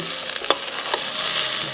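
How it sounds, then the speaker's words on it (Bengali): Onion sizzles in a pan with ginger and garlic paste, a steady close frying hiss with a few sharp stirring clinks, no voices. "তো পেঁয়াজ ভাজার সঙ্গে আদা রসুন পেস্টটা মিশিয়ে নিয়েছি।"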